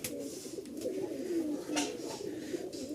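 Pigeons offered for sale at a market coo in soft, low, rolling calls that repeat over a steady background murmur, heard at close range.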